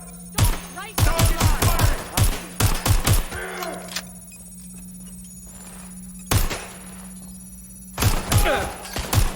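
Rapid bursts of automatic gunfire and heavy thumps in Watch Dogs: Legion, clustered in loud volleys with short quiet gaps between, over a steady low background hum.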